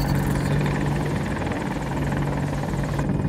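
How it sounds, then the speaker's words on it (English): A helicopter flies in the video game Battlefield 2042, its loud rotor chop and turbine whine holding steady and close throughout, with no talk over it. "Helicopter time, boys."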